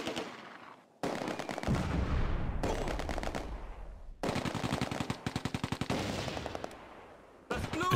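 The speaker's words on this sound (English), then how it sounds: "The Bren section opens up at short range, as does the ad hoc rifle section." Bren light machine gun and rifle fire in a Close Combat wartime battle game: loud, close bursts of rapid automatic shots and sharp single rifle cracks, coming in several long volleys separated by short pauses.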